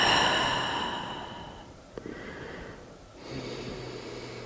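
Slow yogic breaths during a Visvamitrasana pose: a long, fading exhale followed by a quiet pause and a fresh inhale, close and breathy with no talk.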